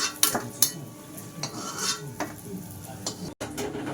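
Palm fruit pitha frying in a pan and being turned, with a few sharp clinks from a utensil over a low, steady sizzle.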